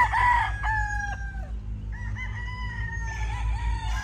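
A grey gamefowl stag, a future brood cock, crows loudly and close with a harmonic call that rises and holds, then gives several short clucks.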